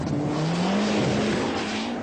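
A Saab Whispering Turbo rally car driven by Stig Blomqvist roars past at speed, its engine a steady, loud drone with a rising and falling pitch that sustains through the moment.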